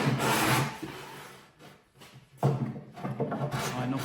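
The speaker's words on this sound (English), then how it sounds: "I'm just going to whip round with a fine sanding block and just knock the sharp edges off" A fine sanding block rubs back and forth along the edges of a plywood tool chest carcass, giving dry rasping strokes in two bursts separated by a brief pause, close and alone.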